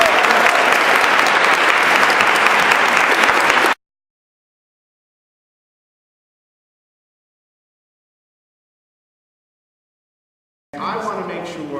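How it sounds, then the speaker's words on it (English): An audience breaks into loud, dense applause at a speech event, sustained clapping for several seconds before cutting off, then resuming after a long silence with a voice mixed in. "So give yourselves a round of applause."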